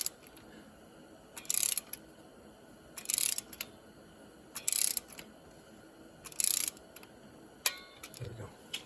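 Torque wrench tightening cylinder head bolts on a 2005 Jeep Liberty during a head gasket job gives four short, evenly spaced bursts of crisp high clicking against a quiet workshop background.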